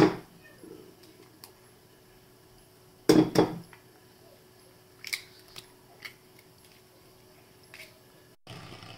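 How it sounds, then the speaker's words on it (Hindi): An egg is cracked into a mixing bowl of cake batter: a sharp double tap against the rim midway, then a few light clicks and small kitchen knocks in an otherwise quiet room. "अब दूसरा अंडा इसमें तोड़ के डालेंगे।"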